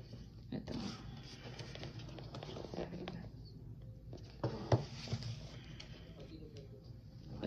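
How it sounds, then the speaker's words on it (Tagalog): Heavy rain falls outside a hotel room, a steady broadband patter that holds throughout, with a few louder taps and knocks and a faint voice murmuring in the background. "Ang lakas ng ulan dito."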